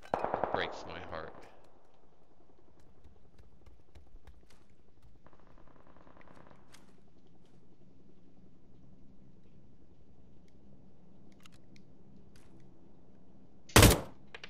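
Desert Eagle pistol shots: a rapid cluster of loud, close blasts at the start, then a long lull with faint voices, and one more sharp shot near the end.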